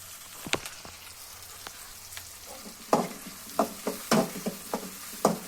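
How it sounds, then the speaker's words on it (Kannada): Garlic and onion frying in hot oil in a pan, a soft low sizzle punctuated by scattered crackles and spoon scrapes as the pan is stirred, with no talking. "ಹಾಗೆ ಇದ್ರ ಜೊತೆಗೆ ಬೆಳ್ಳುಳ್ಳಿ ಕೂಡ ಹಾಕೊತಾ ಇದ್ದೀನಿ ಇದು ಫ್ರೈ ಆಗಿದೆ"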